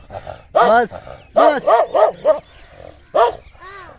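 A dog growls and barks sharply in bursts during an attack at an uncle's rural dera, loud and close with several harmonic barks and whimpering yips, while people shout and talk over it.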